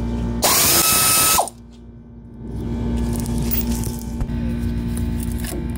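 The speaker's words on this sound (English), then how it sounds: "So now I'm gonna go and take the bottom bolts off. These are half inch bolts." A hand ratchet working on half-inch bolts on a car control arm: about a second of loud buzzing clicks from a powered ratchet, then softer close mechanical handling and faint clicking.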